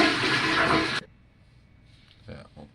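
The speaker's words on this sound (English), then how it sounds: "Flush the potty." A home toilet flushes with a loud, broad rushing burst for about a second that cuts off abruptly, followed by quiet room tone and a couple of faint clinks or movements.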